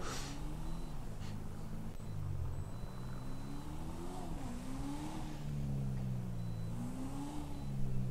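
A 1990 Honda NSX engine in a video game drones steadily from inside the cabin, its pitch rising and falling as the driver revs and shifts.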